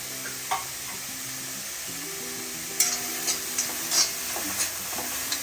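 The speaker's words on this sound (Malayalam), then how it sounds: "നമുക്കിതൊന്ന് വഴറ്റിയെടുക്കാം. എണ്ണയൊന്നും ചേർക്കുന്നില്ല" Vegetables with chopped carrot sautéed in a dry pan with no oil, giving a steady soft sizzle with occasional scraping stir strokes close up, no talking.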